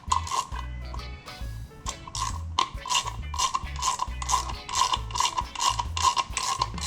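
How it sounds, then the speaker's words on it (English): A ratchet wrench turning bolts on a Kawasaki Ninja case cover, rapid repeated clicking strokes close up with short pauses between bursts, no talking. "now we can use our wrench"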